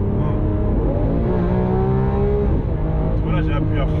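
A 740 hp Lamborghini in Corsa mode, driven in the rain, roars loud and close at full throttle. Its engine pitch climbs steadily, then drops sharply as it shifts down before revving again.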